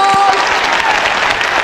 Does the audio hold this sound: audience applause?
yes